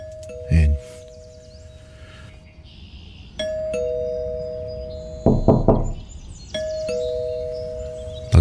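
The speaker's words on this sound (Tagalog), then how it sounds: "May doorbell ba dito?" A house doorbell rings twice with a clear two-tone ding-dong, each chime ringing out and fading, along with a brief knock near the start and a cluster of knocks in the middle.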